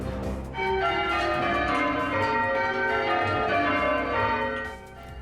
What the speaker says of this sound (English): Bells for a big celebration.